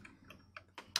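Five soft, separate keystrokes on a computer keyboard, tapped at an uneven pace in a quiet room.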